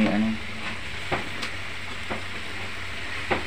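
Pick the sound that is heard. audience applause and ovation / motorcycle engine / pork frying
pork frying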